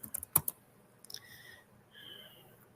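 A few quick keystrokes and clicks on a computer keyboard, close and soft, in a short burst before a quiet pause, with faint electronic tones following.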